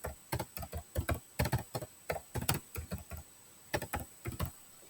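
Folder names are typed on a computer keyboard in quick bursts of crisp key taps with brief pauses between words, close and quiet, with no voices.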